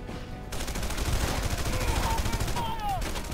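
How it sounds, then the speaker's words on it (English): Rapid automatic gunfire from the video game Red Faction Guerrilla, a dense continuous burst of shots that runs nearly the whole time at steady loudness over a busy battle din. "Gotta hurry up and gun them down before they can reach me"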